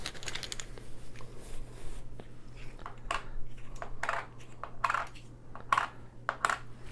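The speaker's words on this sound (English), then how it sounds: "I'm going to refill per the lines on the board" Small Splendor Duel game tokens are set down one after another onto the board during a refill, making a series of light clicking taps at an irregular pace, close by and fairly quiet, with no one talking.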